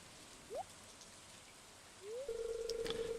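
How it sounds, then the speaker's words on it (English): Rain falls in the Stardew Valley video game as a steady, soft hiss, broken by a couple of brief synthetic chirps and then a sustained tone near the end. "In the rain."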